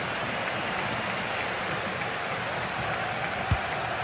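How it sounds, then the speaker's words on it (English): Steady crowd roar fills a football video game stadium, a broad continuous wash of noise at even volume with one brief thump near the end and no talk over it. "The crowd certainly think so. Just listen to that noise."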